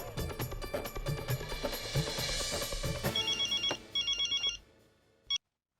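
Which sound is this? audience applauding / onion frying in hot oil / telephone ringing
telephone ringing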